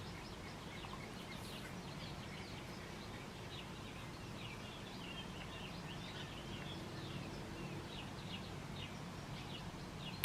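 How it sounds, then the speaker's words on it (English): Small birds chirp and cluck steadily while feeding on the ground, a quiet, continuous scatter of short calls over a constant low background hum, with no talk. "Oh, these birds, these little birds are hitting it down the ground, and then Gertrude's eating it."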